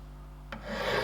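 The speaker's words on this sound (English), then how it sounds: "so I've chosen to file it rather." A metal file rasps against a deformed gear lever part from a Ferguson TED20 tractor; after a quiet start, a short, faint scraping stroke begins about halfway through and continues to the end.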